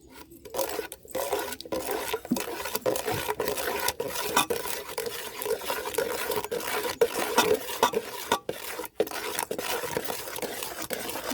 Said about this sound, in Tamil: இந்த மாதிரி தூவிட்டு கொஞ்சம் கொஞ்சமாக அடிக்கரண்டியால் கிண்டிங்கன்னா மாவு நல்லா மாவு பாவில் சக்கரை பாவில் கலந்துடும்